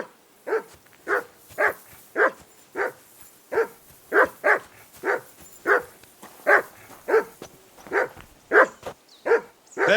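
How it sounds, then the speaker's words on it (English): A dog in the medieval video game Kingdom Come: Deliverance II barks over and over at a steady pace, each bark sharp and fairly close, with no talking over it. "Call off that mutt of yours!"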